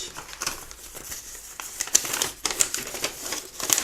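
A knife slices and tears into packaging, giving a run of crisp crinkles, rips and sharp plastic snaps in uneven bursts, close and fairly quiet.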